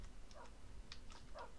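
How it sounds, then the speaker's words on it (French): Faint, high little yips from small dachshund dogs in Minecraft, three or four short, squeaky calls spaced apart over a soft background hum. "Oh, on a des chiens saucisses."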